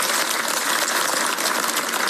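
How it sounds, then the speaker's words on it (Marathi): Loud, dense applause from a large crowd at a Maharashtra political rally, a continuous roar of clapping with no gaps or speech. "त्यांच्यासाठी एकदा जोरदार टाळ्या वाजवा"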